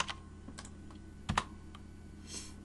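A few sparse keystrokes on a computer keyboard while a short terminal command is typed. The taps are quiet and close, with one slightly louder cluster in the middle, set against a low background hum.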